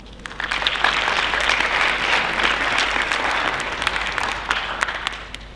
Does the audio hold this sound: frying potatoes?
no